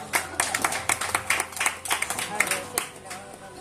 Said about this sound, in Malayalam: അതിന് നമുക്കൊരു കയ്യടി കൊടുക്കാം